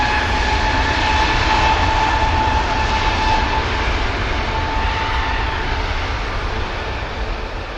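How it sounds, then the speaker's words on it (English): An Airbus A321neo airliner in a .com livery heading to Fuerteventura at Manchester Airport, a loud, sustained engine roar with a faint whining tone that slowly eases off toward the end, no voices. "we also have one of the 321 Neos, November Papa, in the .com scheme, heading to Fuerteventura over here with us."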